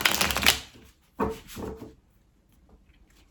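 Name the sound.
shuffling tarot cards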